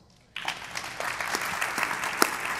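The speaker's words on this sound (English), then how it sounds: "ladies and gentlemen, round of applause" An audience at an author talk applauds, the clapping bursting in after a brief quiet and holding as a dense, even patter of many hands, moderately close, with no speech.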